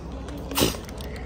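A single short, muffled sneeze in a home setting, heard against a low background murmur.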